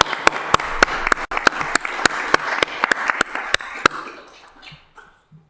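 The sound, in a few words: audience applause at a city council meeting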